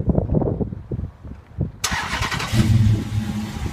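A 2011 Dodge Charger R/T with a 5.7 liter Hemi V8 and custom exhaust fires up by factory remote start: a sharp crank catch partway through, then a loud, deep, burbling idle close by.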